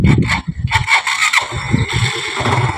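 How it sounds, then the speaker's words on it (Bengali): A used motorcycle engine cranks and catches. Rough starter bursts are followed by a loud, uneven idle close to the microphone, with no talk. "তাহলে আপনারা ফার্স্টে কি করবেন, বাইকটা স্টার্ট দিবেন।"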